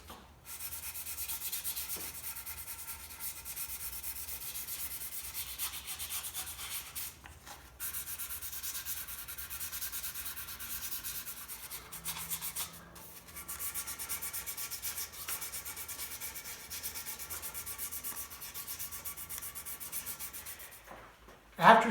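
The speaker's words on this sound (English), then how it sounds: "I'll come back in with some 400 grit sandpaper. This is 3M's 216U, which is a paper that I really like to use. And I'll just lightly sand these areas." A guitar body being lightly hand-sanded with 400 grit 3M 216U sandpaper, a continuous soft rubbing hiss with long even strokes and brief pauses, close up and alone.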